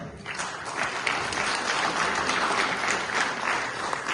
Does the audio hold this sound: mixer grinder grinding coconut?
no